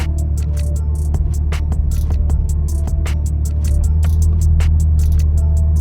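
A 1999 Jeep Cherokee XJ engine idles steadily at about 750 RPM with a low continuous hum, while sharp air-conditioning clicks tick repeatedly and evenly throughout, close and fairly loud.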